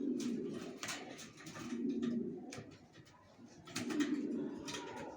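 Young racer pigeons of a Johnson bloodline coo in a loft, soft repeated low rolling coos in several bouts with faint background rustle, close by and unaccompanied by speech.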